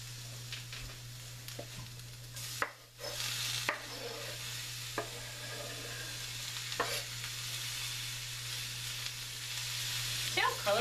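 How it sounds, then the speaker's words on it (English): Pork sizzling in a pan with bell peppers and corn, a continuous frying hiss broken by intermittent scrapes and clatter from a spoon stirring, with a steady low hum beneath. "Add the meat to this first."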